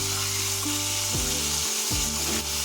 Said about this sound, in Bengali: তারপরে আমরা 2 মিনিট ধরে ভালোভাবে ভাজা করব